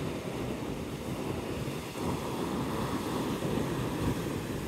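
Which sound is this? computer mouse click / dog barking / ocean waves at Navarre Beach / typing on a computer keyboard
ocean waves at Navarre Beach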